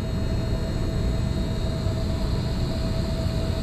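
Gas hisses steadily into the piping of an LG Multi V 4 HVAC system being pressurized, a continuous broadband rush with a faint tonal whine and no talking.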